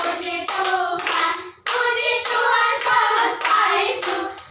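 Hands clap along to a children's song in a second-grade classroom lesson, with bursts of clapping and singing voices filling the room at a steady, lively pace.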